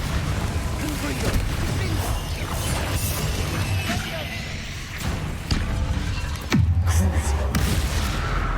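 Confringo blasting spell in Hogwarts Legacy, several booming impacts and crashes over busy game noise, with one loud heavy blast toward the end; a voice calls out in between.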